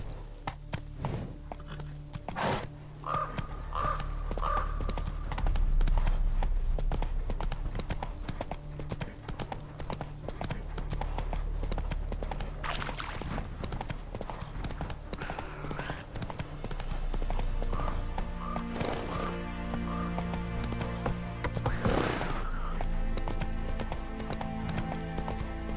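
Roach, the horse in The Witcher 3, canters along with steady, close clip-clopping hooves running through the whole stretch, over a low background bed and a brief whinny-like call.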